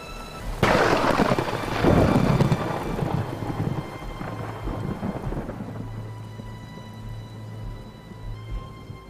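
A hurricane thunderstorm opens with a sudden loud crack of thunder that rolls and rumbles for several seconds, then fades into a steady wash of heavy rain.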